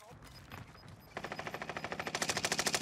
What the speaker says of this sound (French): Les balles partent vite, hein.